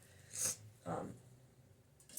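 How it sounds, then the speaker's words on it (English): A person with a runny nose sniffles twice in quick succession, close and fairly quiet, against a low background hush. "I'm sniffling because I was sneezing right before this, and now I can't get rid of the sniffles"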